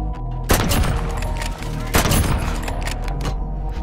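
Thunderous bolt-action sniper rifle shots from the SP-R 208 in Call of Duty: Modern Warfare, two loud booming blasts about a second and a half apart over a dense background of other gunfire and game noise.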